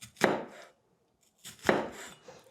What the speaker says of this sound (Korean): 이번에는 양파를 썰겠습니다